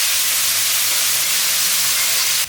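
Sliced onions sizzle as they sauté in a hot pan for a corn and egg stir-fry, a loud continuous hiss that cuts off abruptly at the end.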